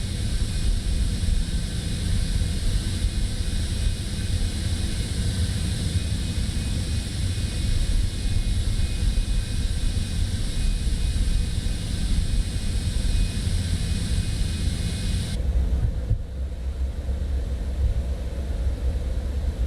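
A Citation X business jet taxis out of Adelaide in Microsoft Flight Simulator, giving a steady whining jet hum over a broad rumbling roar, continuous and fairly loud, before dropping off suddenly near the end.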